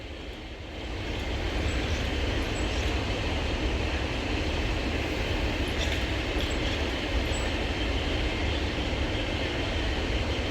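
A Northern Class 331 electric multiple unit passes through Preston station on the West Coast Main Line, a loud, close, sustained roar of motors and wheels on rails that builds within the first second and holds steady.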